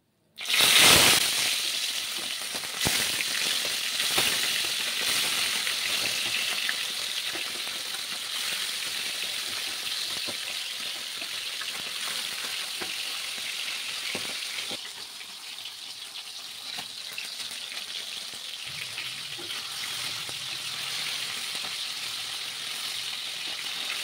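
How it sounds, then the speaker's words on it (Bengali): Bhola fish frying in a pan of oil for a curry, giving a steady, dense sizzle that runs for about 24 seconds after a loud clatter at the start, with no talking. "এই মাছগুলো ভাজা হয়ে গেছে, এখন বাকি মাছগুলোকেও ভেজে নিতে হবে এক এক করে।"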